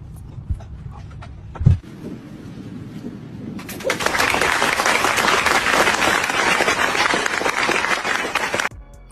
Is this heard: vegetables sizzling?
no